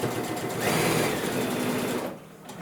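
A sewing machine stitches binding onto a quilt, a steady close whirring run that slows and fades near the end.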